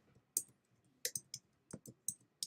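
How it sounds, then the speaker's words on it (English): Quiet keystrokes on a computer keyboard as a name is typed into a search box in Cricut Design Space, about a dozen sharp clicks in an irregular rhythm, close and faint, with no talking. "Let's type in Kathy Fuller"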